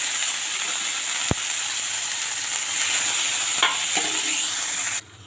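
Turmeric-and-salt spice masala for a koi fish curry sizzles steadily as it is sautéed and stirred in a pan. Two sharp spoon taps cut through the continuous frying hiss, which drops away near the end.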